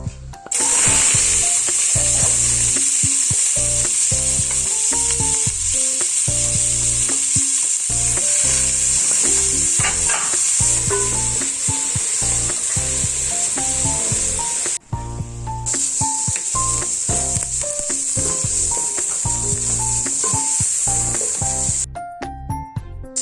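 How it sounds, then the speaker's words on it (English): Onions and garlic frying in cooking oil, a loud close continuous sizzle broken by stirring scrapes and clatter, with a short pause midway and no voices. "So I'm gonna fry the onions and the garlic."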